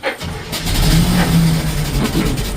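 A farm machine engine that runs well but won't keep running, heard close and loud as a steady rumble with slight rises in revs.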